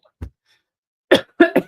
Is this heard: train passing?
no